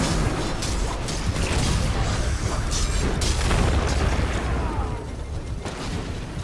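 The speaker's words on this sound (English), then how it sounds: "I've got my rocket launcher. I can hurt him." Rocket launcher blasts and explosions in Destiny 2 boss combat, a dense, continuous roar of booming impacts and rumbling debris, loud and close throughout with no clear pauses.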